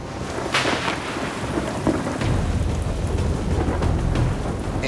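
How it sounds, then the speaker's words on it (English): Thunderstorm over an Alaskan bush camp: steady heavy rain with a loud thunder crack early on, then deep rumbling gusts of rising wind building and holding through the rest, no voices. "Angry skies are lighting up the horizon, and the wind speeds are ramping up again"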